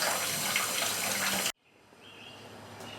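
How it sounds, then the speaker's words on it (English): Water from a hose running out while flushing the cooling system of a 1955 Buick Century: a steady rushing splash that cuts off abruptly halfway through, followed by quieter trickling and background ambience. "So, one more, at least one more water flush."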